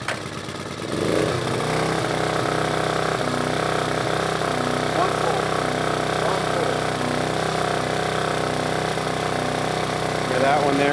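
A small pull-start engine catches on the first pull with a brief burst, then settles into a steady, loud, even idle that runs unbroken to the end, close by.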